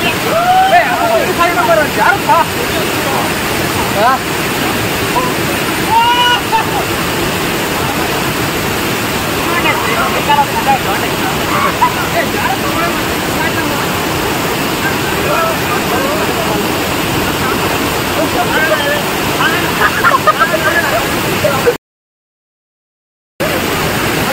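Rushing water at Kerady falls roars as a dense, constant wash of noise, loud and unbroken for about twenty seconds before cutting out briefly near the end.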